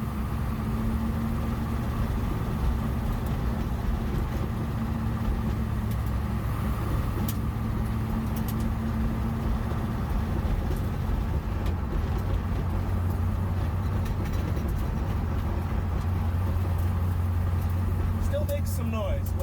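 An Ultima GTR sports car engine runs with a steady low drone and rumble, fairly loud and continuous, while people talk over it.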